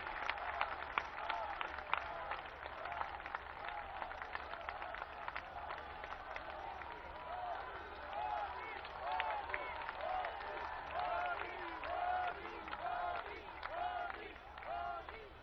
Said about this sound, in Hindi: एक बार जोरदार तालियों के साथ प्रधानमंत्री जी का हार्दिक अभिनंदन और स्वागत